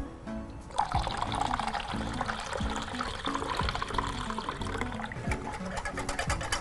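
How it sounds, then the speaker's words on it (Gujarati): Water poured into a pot of boiled lentils in a kitchen, a steady liquid splash and trickle running for several seconds at close range with clinking in the background. "હવે એની અંદર પાણી ઉમેરી લઈશું"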